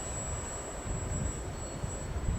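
A WOT4 radio-controlled model airplane engine drones steadily at quarter throttle on its maiden flight, a continuous even whine heard outdoors at moderate distance with no voices.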